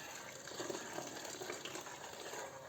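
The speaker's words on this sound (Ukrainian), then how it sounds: "Тепер вливаємо оцю заправку у борщ." Dressing is poured into a pot of Polish-style thickened borscht, a soft, continuous low gush of liquid running steadily and fairly faintly.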